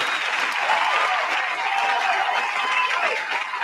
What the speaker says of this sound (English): let me give myself a hand clap right now